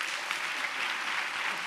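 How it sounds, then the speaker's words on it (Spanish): Audience at a talk on quantum computing applauding the speaker's introduction, a continuous, even wash of many hands clapping at moderate distance throughout the short stretch. "Un aplauso para Clara Grima"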